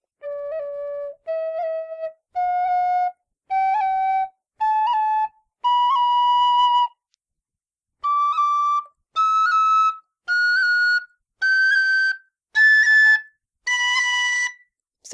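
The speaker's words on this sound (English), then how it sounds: "just tap the note you're playing" A tin whistle plays a rising series of clear, separate held notes, each sounded alone and bright at close range, with a short pause partway through.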